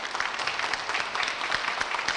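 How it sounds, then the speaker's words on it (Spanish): A studio audience at a Spanish-language broadcast contest applauds, a brief burst of dense, steady clapping from many hands at moderate loudness. "Nuevamente merece el aplauso a pesar de haber perdido el punto"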